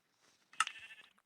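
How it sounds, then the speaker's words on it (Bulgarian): A single sheep in Minecraft lets out one short, clear bleat, faint and isolated against silence. "Овца. Още една."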